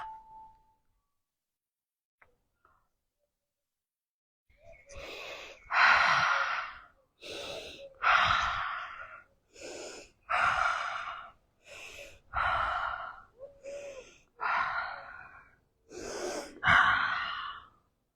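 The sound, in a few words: deep breathing during head tension release exercise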